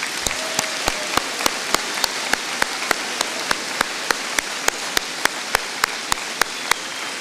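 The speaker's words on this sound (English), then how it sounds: "Can we have a round of applause for our graduates?" Applause for graduates at a graduation ceremony, heard as a steady wash of clapping from a seated audience, with sharp, evenly spaced clicks or taps running through the whole stretch.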